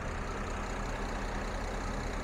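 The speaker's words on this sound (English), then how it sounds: "the V6 is idling very happily, very quietly" Mercedes GLE350 V6 engine idling under an open hood, a smooth, quiet low hum with an even steady drone and no revving, heard close with no talk.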